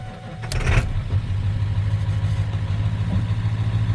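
A 7.3 Powerstroke diesel truck engine cranks briefly with a sharp starter burst, then catches and settles into a steady, low, loud diesel idle.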